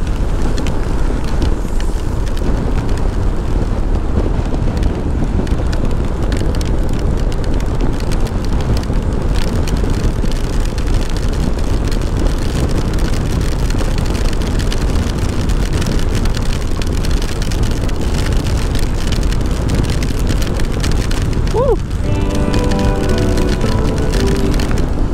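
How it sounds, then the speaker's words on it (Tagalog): A Honda ADV-150 scooter rides through rain, steady engine drone and wind mixed with rain noise throughout, and a brief horn-like tone near the end, with no speech. "Suong tayo sa ulan, mga first timers."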